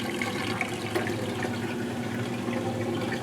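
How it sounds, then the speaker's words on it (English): A GE washing machine draining water during its wash cycle, a steady low rushing and gurgling flow with a faint hum, moderately quiet and unbroken. "we're still in the wash mode and it's draining out"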